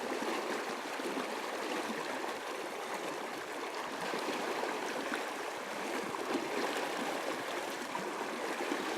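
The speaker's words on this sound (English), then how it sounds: "So, very effective way of wading across a river." River water rushes and burbles around a person wading across, a constant close-up flowing wash with small splashes, steady and fairly loud, with no one talking.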